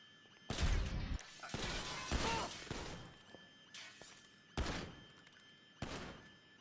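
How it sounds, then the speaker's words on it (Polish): Gunfire in Grand Theft Auto V comes as several loud, sharp bursts of shots and crashes separated by short pauses, with muffled rumbling in between. "Okej, strzelił sobie jeszcze sam w głowę."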